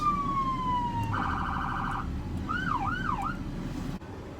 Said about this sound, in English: the main thing to check is your horns, your sirens